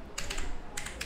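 Typing on a computer keyboard while entering a calligraphy heading for a Noha, Manqabat or Naat, a few quick close clusters of crisp key taps set against quiet background.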